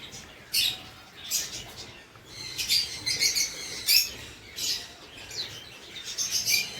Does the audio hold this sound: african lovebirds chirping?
yes